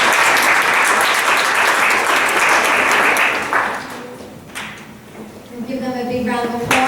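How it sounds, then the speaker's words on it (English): Loud, dense applause from an audience at a school district board meeting fills the first few seconds, then thins and fades as a voice begins talking near the end. "And give them a big round of applause."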